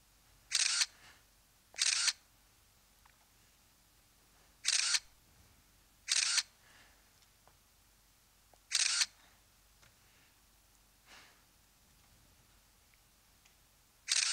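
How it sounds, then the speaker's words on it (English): Camera shutter clicks from a selfie being taken, six sharp bright snaps in irregular succession with a fainter seventh near the end, fairly close, over a quiet room with no talking. "Geez, Cameron, another selfie?"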